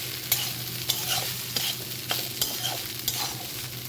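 A spoon scrapes rhythmically around a pan of Bengali-style fried rice, the stirring strokes close and regular over a steady frying sizzle.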